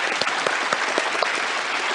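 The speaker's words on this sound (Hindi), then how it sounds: "बहुत बहुत तालियों के साथ इनका स्वागत किया जाए।" A studio audience at the KBC game show welcomes the CID team with brisk, continuous applause, many hands clapping close and loud throughout.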